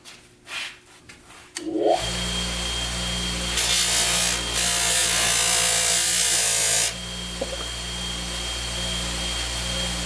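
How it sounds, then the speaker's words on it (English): A buffer motor spins up and holds a steady hum while a cotton pad loaded with jeweler's rouge polishes aluminum, adding a loud hissing rub for several seconds in the middle, all close and continuous. "I'm going to go over it with some of this Jeweler's Rouge on the cotton pad, and this should bring it out really good"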